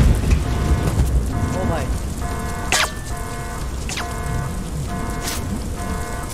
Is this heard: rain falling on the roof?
yes